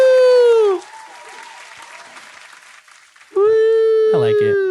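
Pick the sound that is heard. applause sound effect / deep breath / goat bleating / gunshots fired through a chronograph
applause sound effect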